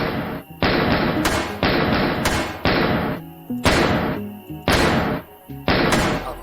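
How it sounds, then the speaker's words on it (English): Turret being destroyed in a video game: a run of heavy, booming thuds and crunchy impacts in quick irregular succession, loud and close, with no talk. "So, kill the turret real quick."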